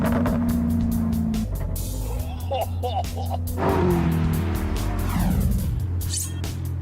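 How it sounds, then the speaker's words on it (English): Alfa Romeo 8C exhaust on the overrun, a loud, close engine note with deep low-frequency burble and crackle, under speech. "You listen to it on the overrun"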